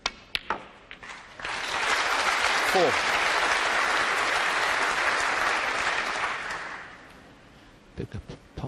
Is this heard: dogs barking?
no